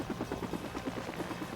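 A helicopter in Batman: Vengeance on GameCube chops rhythmically with rapid, evenly spaced rotor thumps, fairly loud and steady, heard alone without speech.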